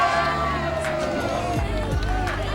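Morning crowd gathered in the plaza outside the Today show studio in New York, a continuous murmur of many voices with a low rumble and scattered higher tones, moderately loud.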